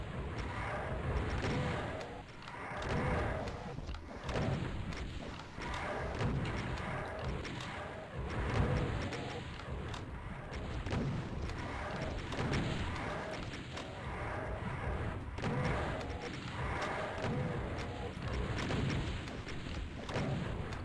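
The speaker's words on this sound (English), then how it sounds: "we end up using super shotgun anyway." Super shotgun blasts and other weapon fire in Doom on the Sunlust map 24, a quiet, dense mix of repeated booming shots over continuous game noise.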